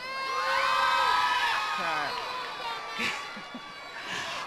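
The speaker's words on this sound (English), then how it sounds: "Let me hear you holler, y'all." A crowd cheers and whoops loudly, with high shouts and hollers rising together, then fading into scattered calls.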